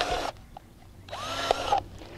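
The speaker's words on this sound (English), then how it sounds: "you just drill a bunch of holes" A power drill bores holes in a bucket in two short bursts of high whirring separated by a pause, close and clear with no talking.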